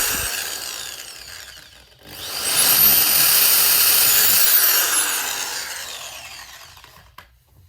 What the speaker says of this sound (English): So we're going to drill out these two